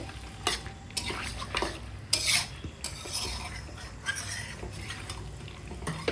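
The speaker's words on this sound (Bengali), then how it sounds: "মিট মশলাটা দেওয়ার পরে আর একটু নাড়াচাড়া করে নিলাম" Mutton coated in meat masala is stirred in a pan, with a spoon scraping in repeated bursts over a quiet, continuous sizzle.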